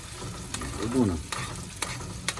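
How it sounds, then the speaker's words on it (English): A spoon scraping through Cajun gumbo in a pot over a soft sizzle, brief stirring strokes with a few clinks against the pot, close and moderately quiet. "let me just mix all that up and get it cooking good"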